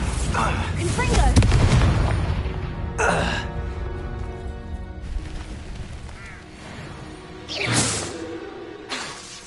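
Repeated Confringo blasts from Hogwarts Legacy, a fiery explosive spell bursting in loud surges amid heavy spell-combat noise, with a voice talking and shouting over it.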